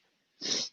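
A single short sneeze, a sudden burst of breathy noise lasting under half a second after near silence, close and fairly loud.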